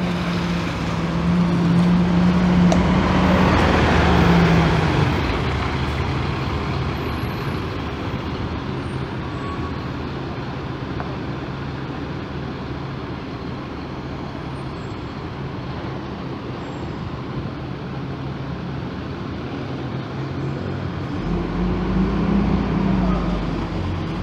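A Viação Express Brasília bus departs a terminal in Januária, Minas Gerais, its low engine rumble swelling near the start and again at the end, with a voice talking over it.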